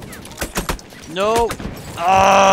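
Gunfire in the Battlefield 1 video game, a few sharp reports followed by a rising mechanical whine and a loud sustained engine-like drone, heard close and alone.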